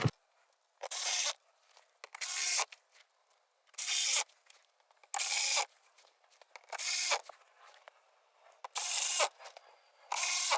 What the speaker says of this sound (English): So get your T25 and go ahead and get your front bolts back in.